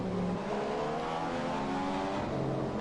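F1 car engine in the F1 2015 racing game accelerating hard, a steady loud high whine with rising harmonic sweeps and a brief gear change, continuous throughout.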